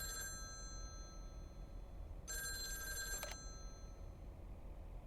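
An electronic telephone ring sounds twice, a short burst and then a longer one a couple of seconds later, fairly faint against quiet background noise.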